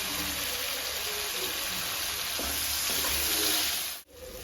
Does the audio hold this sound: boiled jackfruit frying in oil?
yes